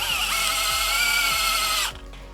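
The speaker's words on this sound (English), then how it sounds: "we made this little tool, and it's going to screw that J-bolt in for us" Power drill driving a J-bolt for a farm gate through a homemade tool, a loud steady whine with periodic rhythmic knocks that runs for about two seconds, then stops abruptly.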